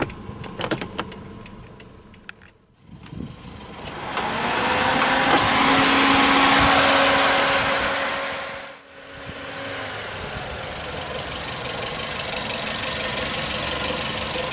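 A 2009 Suzuki SX4 automatic with a 1.5 liter inline four idles under the open hood, its steady hum swelling in the middle with a faint whine, then settling back to a quieter, even idle.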